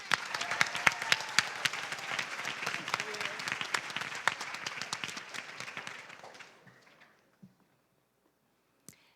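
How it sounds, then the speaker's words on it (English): A school audience at a high school Poetry Out Loud recitation contest claps for a finalist, a dense burst of many hands that thins out and fades to silence, with a few isolated claps at the end. "Please give our next finalist a round of applause"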